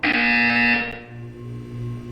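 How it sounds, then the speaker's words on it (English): A flat electronic buzzer from the video game Portal 2 sounds once, loud and steady for under a second, then cuts off, leaving a faint hum behind it. "You will hear a buzzer. When you hear the buzzer, look up at the ceiling."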